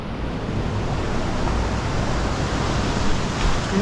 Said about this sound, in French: Une autre cascade.